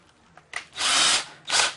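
A power drill whirs in two bursts while drilling a 3/16 inch screw hole, a short run then a longer high-pitched spin, with a brief pause between them; close and fairly loud.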